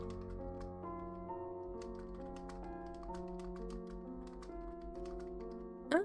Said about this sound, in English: The sound of typing on a keyboard.